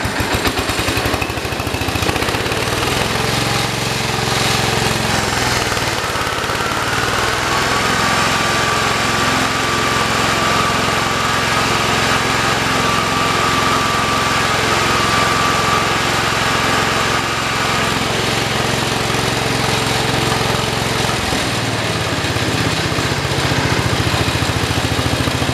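Engine of a 1968 112 lawn tractor running steadily before mowing, a loud, continuous close-up drone with a slight rise in pitch, no talk.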